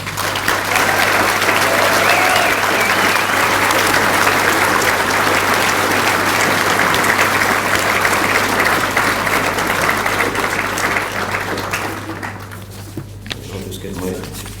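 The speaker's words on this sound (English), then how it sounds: "I'm now going to ask the graduates to give their parents and their families a round of applause." A graduation conferring crowd claps for parents and families, a long, loud, even round of applause that fades toward the end as a voice returns.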